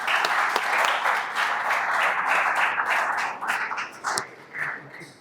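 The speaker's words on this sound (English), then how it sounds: "Please join me in giving a huge round of applause to Mr. Amit Pandit." An audience at a business chamber event bursts into loud, sustained applause, dense clapping from many hands that carries on for several seconds before thinning into scattered claps near the end.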